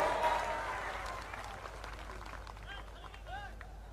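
A crowd at a Bharat Jodo Yatra public rally in Nanded clapping, the applause loudest at the start and fading over a few seconds, with scattered voices underneath.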